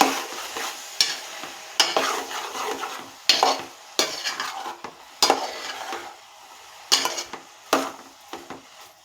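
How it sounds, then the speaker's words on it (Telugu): Ridge gourd and dried fish curry stirred in a pan, with repeated scraping strokes of a spoon against metal at an uneven rhythm over a low frying sizzle, close and clear. "ఇవంతా ఒకసారి బాగా కలుపుకోవాలి."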